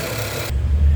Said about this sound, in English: the EcoBoost motor with the turbo